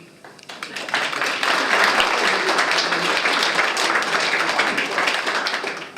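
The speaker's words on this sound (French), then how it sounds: "N'applaudissez pas, on n'applaudit pas à un enterrement, même de première classe" Audience applause at a talk on renewable energy, a dense sustained clapping that swells in after the first half second and holds steady and loud to the end, with no voices.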